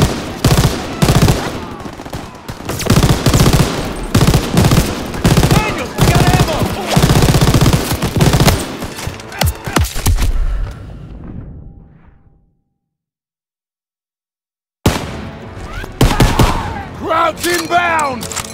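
Rapid bursts of automatic gunfire and blasts from the Call of Duty: WWII D-Day mission crowd the first twelve seconds, with shouting voices mixed in, then silence, then more gunfire and voices.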